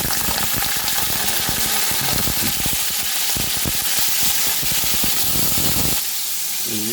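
Browned onions fry in oil for a peas pulao. A loud, dense, steady sizzle and hiss runs throughout, with a softer tail at the end and no voices.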